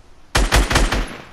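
Automatic gunfire from the video game Fortnite bursts in loudly after a brief quiet, a rapid string of four or five heavy shots fired in quick succession, close and dominant with no voices.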